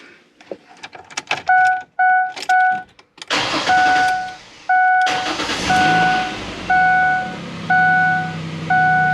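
Inside a Ford Explorer after an alternator replacement, dashboard chimes ping repeatedly as the key goes in, then the starter cranks and the engine catches and settles into a steady idle, with chimes continuing over it.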